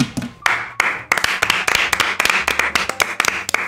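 Applause from a small group fills the stretch, with sharp, irregular hand claps bunching together, loud and close, after a brief quieter opening.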